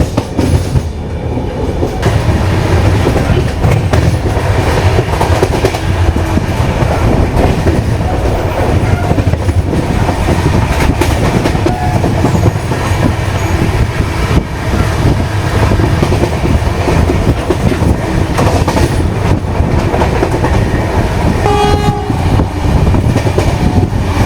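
A Vande Bharat express on the Chennai–Coimbatore route passes on the opposite track, a loud sustained roar of wheels and wagons with rhythmic clatter, heard close from aboard a moving Shatabdi Express train.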